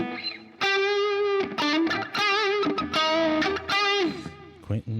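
An electric guitar runs through a compressor, delay and reverb into a 2x12 cabinet impulse response. It plays sustained, singing notes with vibrato and bends in several phrases separated by short gaps, loud and close.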